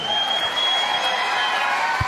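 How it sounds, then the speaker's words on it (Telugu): An audience claps steadily for about two seconds at a business talk, a dense even patter with faint crowd noise. "ఇంతే క్లాప్స్."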